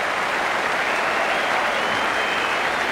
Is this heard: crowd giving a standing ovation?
yes